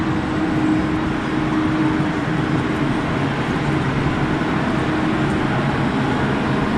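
A very long train hauled by two coupled engines rolls through Zurich Hauptbahnhof, a steady, unbroken rumble of wheels and cars that holds at constant loudness throughout.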